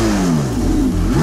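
A Porsche 918 Spider hybrid, with a 4.6-liter V8 and two electric motors, revs loud and close, its engine note sagging and then climbing again in one continuous roar with no talking.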